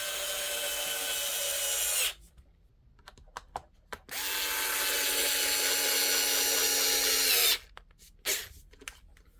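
An electric screwdriver drives screws into the Traxxas Xmaxx RC truck body in two long, steady whirring runs, separated by brief clicks and handling noises, close up with no speech.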